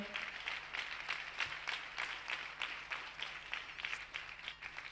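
A church congregation at a French-language service claps in uneven bursts that rise and fall, moderately loud and without talk.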